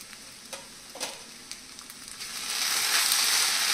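Sabudana khichdi stirred in a pan, several sharp scraping strokes over a soft sizzle, then a louder continuous frying hiss builds toward the end, with no speech.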